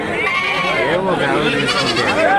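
Goats bleating at a busy goat market, several loud wavering bleats overlapping close by amid crowd chatter and voices talking.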